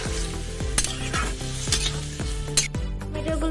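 Water poured into a pan of frying mixed vegetables sets off a loud, close sizzle, with a spoon scraping and stirring in repeated rhythmic strokes over the hissing.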